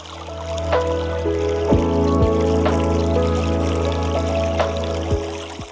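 Icy snowmelt water gushes and pours across a beach near Granite Point in Seward, Alaska, a steady close trickling rush with a few brief knocks and splashes over it.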